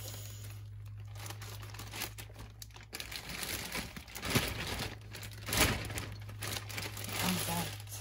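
Close, busy crinkling of a plastic bag being unwrapped around jewelry, with sharp crackling bursts that swell and fade over a low background hum.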